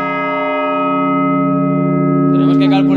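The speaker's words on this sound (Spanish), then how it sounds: "Cuando la campana se mezcla con la grande" A cathedral church bell rings at the Catedral Magistral de Alcalá de Henares in Spain, its steady, loud tone sustained with long resonant overtones, and voices join in near the end.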